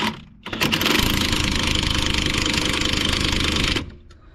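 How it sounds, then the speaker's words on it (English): An impact wrench hammers steadily for about three seconds, loud and close, while trying to remove a drop link on a Vauxhall Corsa C, then cuts off abruptly. "I'm just going to try and impact this off"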